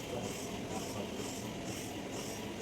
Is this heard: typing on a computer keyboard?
no